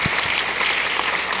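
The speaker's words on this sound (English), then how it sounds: "I would like to give another round of applause for both of our honorees." Audience applause honoring award recipients at a Korean American Day event, loud and dense clapping from a crowd, with a few sharper individual claps near the start.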